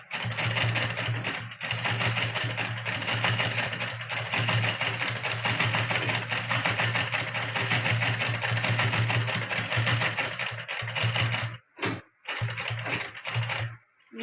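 Sewing machine running steadily while stitching a straight seam on a blouse side, a fast continuous mechanical whir with rapid needle ticking, close and even, pausing briefly near the end before restarting.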